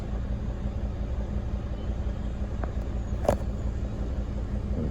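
Steady low diesel idle from a T1N Sprinter running after an EGR valve fix, a continuous rumbling drone with one brief sharper blip partway through, close and even throughout.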